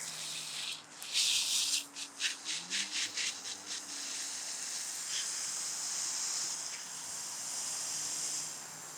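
Water soaking kale seedlings in a raised garden bed, a steady broadband hiss of spray and splashing that runs nearly the whole time, with a burst of rhythmic sloshing pulses early on.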